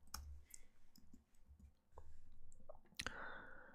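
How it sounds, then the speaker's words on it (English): Computer keyboard keys clicked while typing a search, a quiet run of scattered taps with short pauses and a brighter cluster of clicks near the end. "So I will type in flower silhouette."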